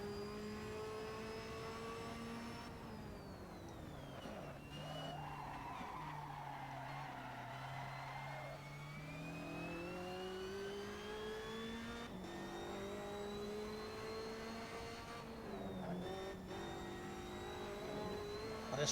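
A Ferrari race car with a sequential gearbox in the Assetto Corsa racing game, its engine droning steadily and rising and falling in pitch through gear changes, with tire skids in the middle, loud and continuous with no talk.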